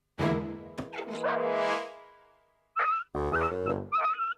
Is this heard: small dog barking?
yes